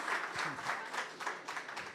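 Audience applause at a live Fvckup Nights storytelling event in Mexico City, a steady wash of many hands clapping at moderate volume, rising and falling slightly over two seconds with no voices on top.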